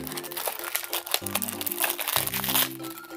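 Small plastic packaging crinkles and crunches while collectible figures are unboxed, close and fairly soft, in irregular bursts over soft background music.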